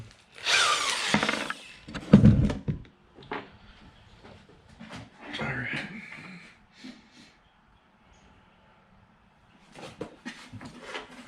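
A power drill whirs in several short, uneven bursts while making a bracket for an MSD 6AL ignition under a car dash, interspersed with clunks and handling noises and stretches of near silence.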